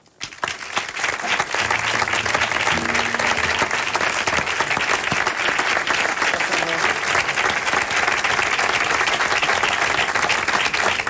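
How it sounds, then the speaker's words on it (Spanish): Strong, sustained audience applause at a flamenco forum event, loud dense clapping that rises quickly and continues steadily without a break for the full length. "Yo pido un fuerte aplauso para David Pino."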